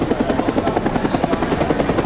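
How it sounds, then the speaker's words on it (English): Helicopter holding a stable hover for a spy rig insertion and extraction, its rotor thumping in a fast, even rhythm over a constant engine whine, loud and close. "this is one of those very, very difficult things to do, hold a helicopter stable"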